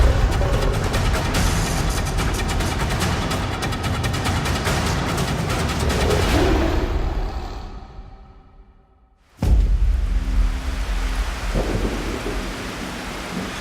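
Torrential rain pours in the Costa Rica wet season with thunder, a dense, loud roar that swells, dies away briefly, then resumes abruptly at full strength.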